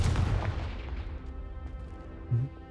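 The Confringo fire spell in the video game Hogwarts Legacy sets off a deep blast whose boom decays over about two seconds, with a smaller low thump near the end.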